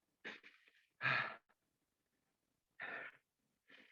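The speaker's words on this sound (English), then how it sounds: "You can already hear me breathing." Heavy breaths after a bodyweight workout, four loud, close puffs and gasps spaced irregularly with short silences between them.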